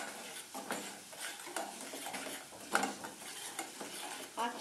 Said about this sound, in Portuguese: Vamos dourar esse alho e essa pimentinha de cheiro.